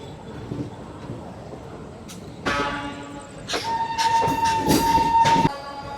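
Express train 17243 on its Guntur to Rayagada run rumbles along with a steady rolling noise, then a loud, sustained horn blast sounds for a couple of seconds over the clatter.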